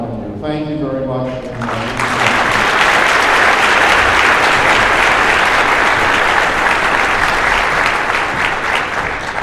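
A large audience at a disaster recovery conference general session applauds loudly and steadily. A voice speaks briefly over the opening second, then dense clapping swells and holds for the rest of the clip.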